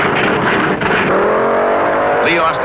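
Loud drag-racing cars launch off the line at the 1972 UDRA Spring Nationals, engines roaring and rising in pitch as they pull away, with a commentator talking over the noise.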